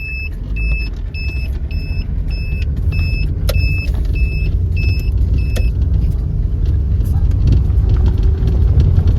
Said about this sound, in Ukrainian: машини їздять тихенько